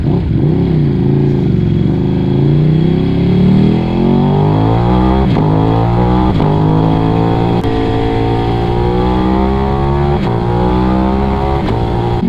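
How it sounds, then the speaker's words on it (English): A Ducati Streetfighter V2 motorcycle with a full Akrapovic exhaust system revs hard, its engine note rising and falling in loud, close, continuous throttle blips with a deep rumbling growl. "If there is one accessory that you're going to put on this bike, it's this exhaust. Listen to that."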